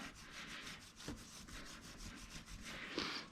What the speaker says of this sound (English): And you just keep going around on the back of the sprocket. Just keep rubbing, picking up all the gunk.